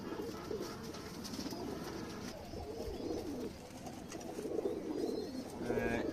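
A female racing pigeon coos softly nearby in low, rolling bursts over a faint background hum.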